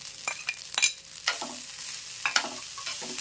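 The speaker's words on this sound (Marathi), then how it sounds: "राईस व्यवस्थित फ्राय झाल्यानंतर आपण इथे पनीरचे तुकडे घालणार आहोत" Rice with paneer pieces is stir-fried on a hot tawa for hotel-style tawa pulao, with a spatula scraping and tossing in quick strokes over a steady sizzle, close and alone.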